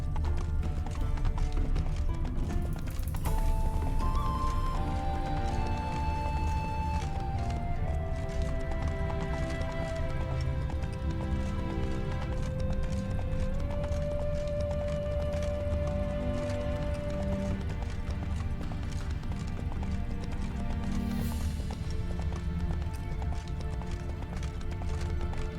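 Roach the horse gallops in The Witcher 3, a steady rapid clip-clop of hooves running continuously under game music, with a brief whinny and no voices.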